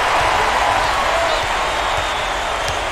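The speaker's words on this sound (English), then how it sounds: "Listen to the crowd, Vern." Steady crowd roar from the stands in the College Hoops 2K8 basketball video game, a continuous, loud wash of cheering noise that holds at an even level.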